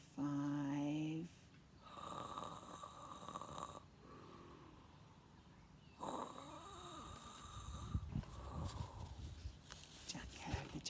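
A storybook giant's snoring sound effect, with loud, drawn-out snores repeating in a slow rhythm, close and clear, over a faint background.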